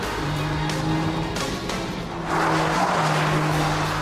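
A 2011 BMW 1 Series M Coupe slides with its tires squealing in sustained, wavering tones over the engine's roar, the squeal swelling louder partway through as the car slides under power.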